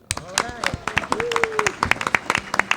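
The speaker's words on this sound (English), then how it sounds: "Oh, hold the applause." Scattered clapping from an audience at a 2010 pre-election panel in Chicago, brief crisp claps running under a man's speech and a voice.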